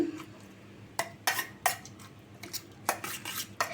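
An egg mixture is beaten in a bowl for a potol and egg dish, with a series of sharp clinking utensil strikes against the bowl in irregular bursts, close and fairly loud.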